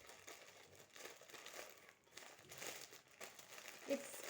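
Sticky plastic packaging of a parcel being pulled and peeled open by hand during an unboxing, giving a steady run of close crinkling and crackling rustles with brief pauses and no talk.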